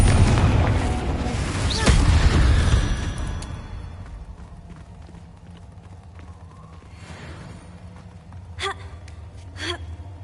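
A Confringo blasting spell goes off in Hogwarts Legacy, a loud booming explosion early on that fades into a rumble, followed by two sharper impact bursts near the end.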